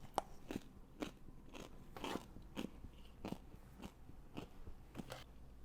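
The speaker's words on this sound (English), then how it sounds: "Listen to this crunch." Crunchy air-fried food is bitten and chewed up close, about a dozen sharp crackling crunches falling at a steady rhythm over a quiet background.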